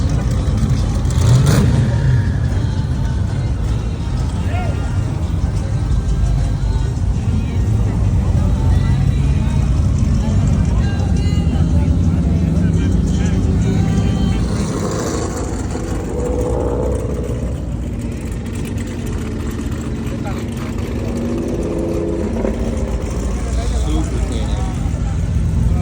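Street cars revving and running at a nighttime-style car meet and street race event, a loud continuous engine roar with swells of acceleration, crowd noise and talk mixed in throughout.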